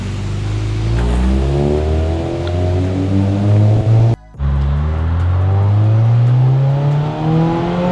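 A Honda Civic EK9 Type R with upgraded HardRace suspension revs up repeatedly through the gears from inside the cabin. Its loud, rising engine note breaks off abruptly for an instant partway through, then climbs again.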